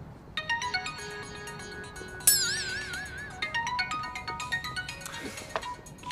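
A phone rings with a bright, melodic electronic ringtone from an unwanted sales call, repeating its looping tune for several seconds in a quiet indoor setting, moderately loud and alone.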